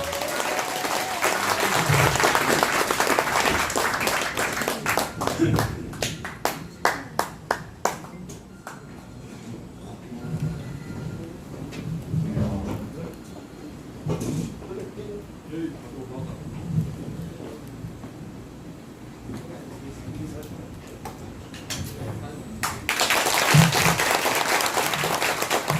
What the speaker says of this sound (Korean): 여러분들 박수 부탁드립니다